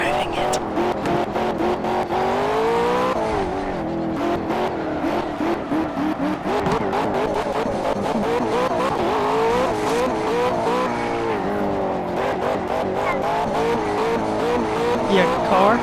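A video game race car roars with a continuous engine drone, rising and falling revs and occasional tire squeal, loud and steady throughout, while a voice talks over it.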